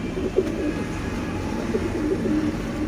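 Low, throaty coos from Sialkoti 35 pigeons repeat softly in short rolling phrases against a steady background hum, fairly close.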